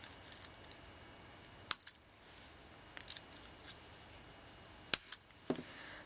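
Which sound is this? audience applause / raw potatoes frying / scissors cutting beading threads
scissors cutting beading threads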